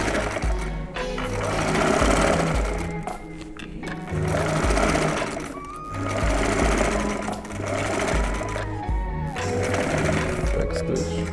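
A sewing machine stitches in bursts, top stitching and back stitching along a garment seam. Its loud, close, rapid chatter runs in three or four long runs separated by brief pauses, with no talking over it.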